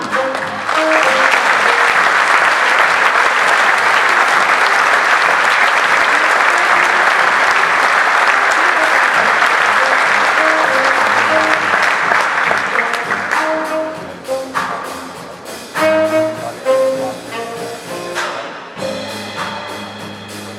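Loud sustained applause from the audience at Slovenia's Olympic Committee sports awards ceremony, dense and even for most of the stretch before thinning into scattered claps and a few voices toward the end.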